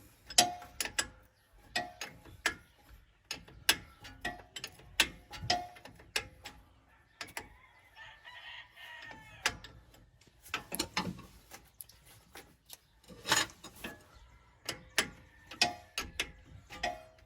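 Ratchet wrench loosening a brake bolt on a Chevy 3500 Duramax diesel dually truck, sharp clicking bursts in irregular runs with short pauses, close and clear, no talking.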